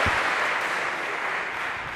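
A lecture-hall audience at a CS50 computer science class applauds volunteers, a dense, even wash of clapping that carries steadily at a uniform level from start to end.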